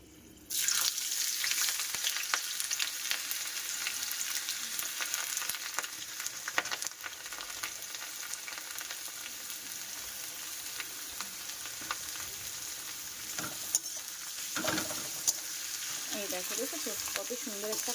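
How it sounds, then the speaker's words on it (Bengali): Chopped onion hits hot oil with melted sugar and bursts into a loud, close sizzle that holds steady throughout, with occasional stirring clatter and a brief voice near the end. "এখানে এবার আমি দিয়ে দেবো পেঁয়াজ কুচি"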